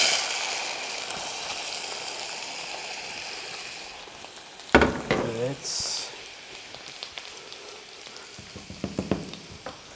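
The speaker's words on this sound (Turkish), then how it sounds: "Daha önceden sıvı yağı koyduğumuz tencereye sosumuzu döküyoruz." Sauce pours and sizzles into hot oil in a pot for Bodrum çökertme kebab, a steady frying hiss with a sudden burst of crackling, followed by light stirring clatter; a voice speaks briefly in Turkish.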